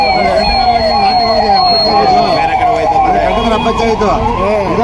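An emergency siren wails in rising and falling sweeps on Magadi Road after a truck accident, loud and close amid traffic noise, with people talking over it.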